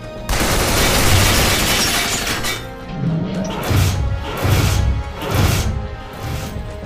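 Dense gunfire volley from a group of shooters in the video game Binary Domain, a loud continuous burst of shots for about two seconds, followed by several heavy, thudding impacts and booms spaced out over the next few seconds.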